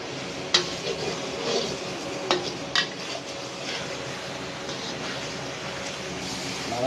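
Restaurant-style pulao is stirred in a pan, with a few light clinks and scrapes from the utensil over a low, steady background sizzle; the sound is fairly quiet and without clear talking.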